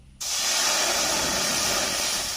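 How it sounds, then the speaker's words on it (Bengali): Water hits a hot kadai and bursts into a sudden loud hiss of steam that holds steady and strong to the end. "কড়াইতে দিয়ে দিচ্ছি জল।"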